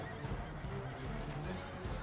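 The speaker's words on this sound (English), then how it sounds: "Horse charge is extremely powerful in this game when used effectively" Cavalry horses charging in a video game battle set in ancient Rome, a dense, continuous rumble of hooves, whinnies and clashing noise at steady loudness throughout.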